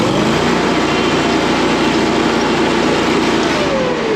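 A Toro compact loader's engine runs at high RPM, a loud, steady, continuous roar that fills the whole stretch without any talk.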